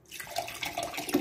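Water pours steadily from a tap in a short close-up burst, a continuous splashing hiss with no voices.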